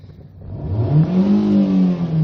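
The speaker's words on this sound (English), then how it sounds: "let's see the RPMs. Try to accelerate." A white Kia Pride gasoline car with a manual transmission revs up hard, its engine note climbing steadily and then holding at a loud, smooth high pitch up close.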